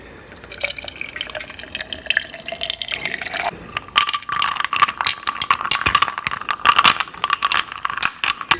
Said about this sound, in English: let's start by pouring a cup of coffee